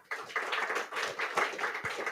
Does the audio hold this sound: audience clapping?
yes